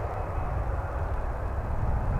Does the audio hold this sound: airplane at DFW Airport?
yes